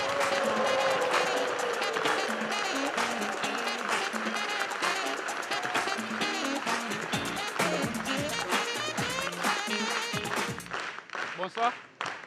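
Audience applause and cheering for a comedian on a Côte d'Ivoire stand-up show, sustained clapping from a crowd mixed with loud stage music for much of the clip, with a voice speaking over it.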